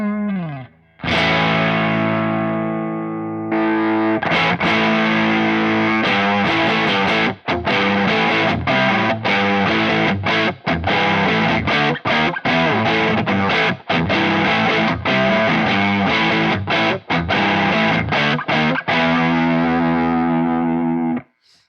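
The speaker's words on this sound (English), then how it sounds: "let's hear the tube screamer by itself" Overdriven electric guitar through a Tube Screamer pedal, apparently a Strat into a Ceriatone Big J JP100 amp, strumming loud chords with sharp rhythmic stops and short held chords at the start and end; close and continuous with no talking.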